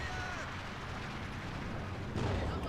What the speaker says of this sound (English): that ISG, nice barrage there